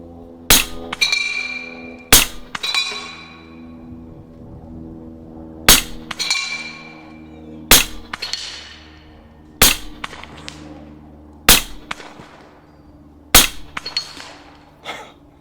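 Nine sharp gunshots from a rifle with a red dot sight fired at steel targets outdoors, spaced a second or two apart, each crack trailed by a ringing metallic ping from the struck steel.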